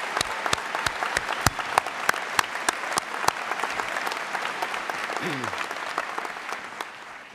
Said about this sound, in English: How about a round of applause for these students?